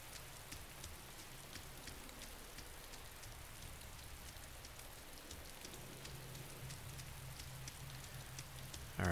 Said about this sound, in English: That's kind of glitchy rain.